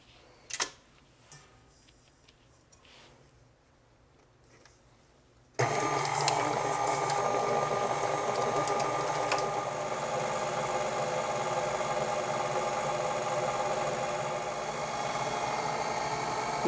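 A hand or stand mixer beats sugar and one egg into cheesecake batter for mini blueberry cheesecakes, starting abruptly after a quiet stretch and then whirring steadily and loudly to the end.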